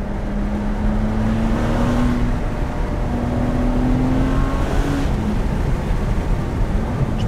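A Ferrari 599 HGTE drives along with a steady, low engine drone and mild tonal rises as it gathers speed, heard from inside the car against constant road and wind noise.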